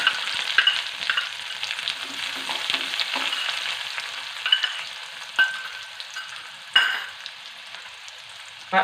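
Shallots frying in a pan for buttermilk curry, a loud, continuous close sizzle with scattered sharp pops and spatters and occasional stirring scrapes, no voices.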